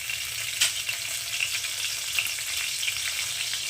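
Chopped green chili hitting hot oil with mustard seeds, a steady bright sizzle with small crackles and pops throughout, close and alone without voices.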